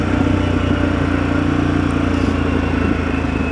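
Harley-Davidson Pan America Special motorcycle idling in traffic, a steady low engine rumble, close and fairly loud, with a brief faint higher sound near the end.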